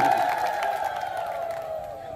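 A crowd cheers at a Biju Janata Dal panchayat-level meeting in Jenapur, Delang block, with a sustained wavering whoop or ululation over the noise that gradually fades across the short burst.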